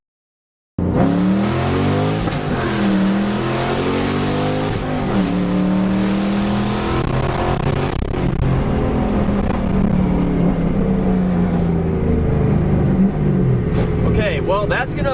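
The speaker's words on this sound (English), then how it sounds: "I feel like you guys deserve to hear this car full throttle." A straight-piped Ford Mustang GT engine revving hard at full throttle in first gear, climbing and dropping in pitch repeatedly as it accelerates, continuous and close for the whole stretch.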